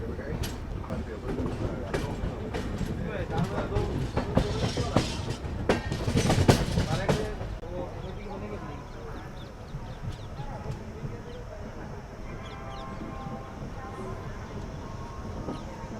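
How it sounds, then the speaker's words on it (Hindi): A passenger train rolls into Nagda Junction railway station at dusk, wheels clattering loudly on the rails at first and then easing into a quieter, steady rumble as it slows, with voices in the carriage. "इसी ढलती शाम के साथ हमारी ट्रेन एंटर कर रही है"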